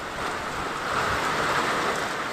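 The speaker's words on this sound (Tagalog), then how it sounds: "nasasaksihan ang malakas na pagbuhos ng ulan at hangin na dulot nga daw po ng habagat" Heavy monsoon rain driven by wind pours down as a dense, steady hiss that stays constant and loud throughout, with no voices.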